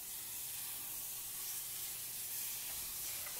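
Butter sizzling in a hot pan before pork chops are cooked, a steady close hiss and crackle that runs the whole time without pause, with no voices.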